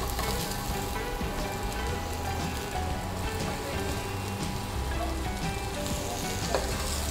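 Chopped onion sautéing in a pan for guisadong upo, a dense continuous sizzle with light crackles and occasional stirring scrapes, steady throughout.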